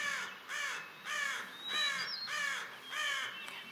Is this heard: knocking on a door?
no